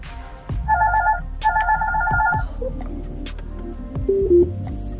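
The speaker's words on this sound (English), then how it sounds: "Who is calling my phone?" A mobile phone ringtone plays in a car during a drive, a repeating melodic ring pattern over steady engine and road rumble, fairly loud and close, with no talking.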